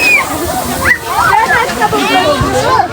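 Water splashes and sloshes at a children's water play area in an amusement park, a continuous rushing wash under excited voices talking.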